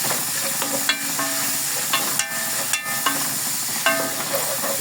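Garlic, onion and pork sautéing in a pan give a steady sizzle. A spatula stirs and scrapes against the metal several times over it.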